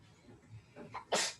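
A single sharp sneeze bursts out at the end after a soft breathy intake, fairly quiet and close.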